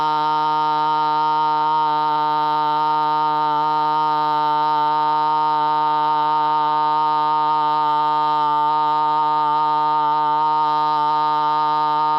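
A single voice holds one long, steady hummed "ma" tone as a vocal vibration exercise, loud and close, unbroken for about twelve seconds.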